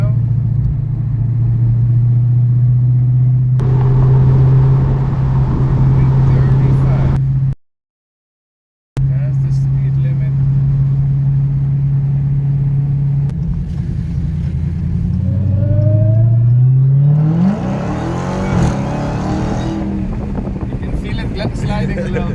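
A Dodge Challenger Hellcat on drag radials rumbles at a steady low drone while driving, cuts out briefly, then climbs into a rising rev as the throttle opens, loud and close from inside the cabin.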